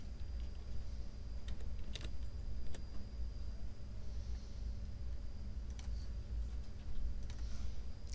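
Scattered keystrokes on a computer keyboard tap softly at irregular intervals in a quiet room, with a low steady hum beneath and no talking.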